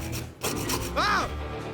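A hand file rasps back and forth across a bread loaf in a few rough, scraping strokes, close and steady.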